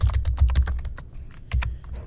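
Fingers type on a computer keyboard in quick, uneven bursts of clicking keys, close and moderately loud, with a brief pause before another flurry.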